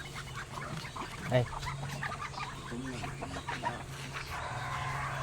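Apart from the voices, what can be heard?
large ducks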